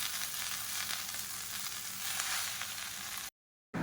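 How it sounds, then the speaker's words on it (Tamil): Onions sautéing in a pan with a handful of fresh mint leaves, a steady loud broadband sizzle holding throughout before cutting out abruptly near the end. "இப்போ வெங்காயம் மேல் தோல் எல்லாமே நல்லா வதங்கிருச்சு."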